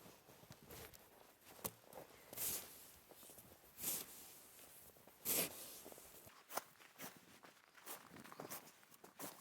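Dry, clean snow shuffled across a woolen carpet mat gives soft, brushy scrapes and rustles. Three louder sweeping bursts stand out, with quieter shuffling between them, close by and with no voices.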